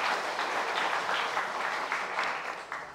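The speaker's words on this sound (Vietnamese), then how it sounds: "chúng tôi một lần nữa muốn nghe những tràng pháo tay cổ vũ của các bạn cổ động viên dành cho các thí sinh của chúng ta" Audience applause for contestants at a televised quiz show: many hands clapping in a steady, moderately loud, slightly distant roar that holds throughout, with no talking.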